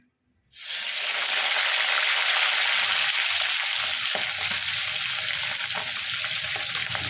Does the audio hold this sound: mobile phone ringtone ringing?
no